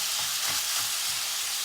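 Onions sizzle and crackle loudly in a hot skillet, a continuous close hiss with faint stirring scrapes.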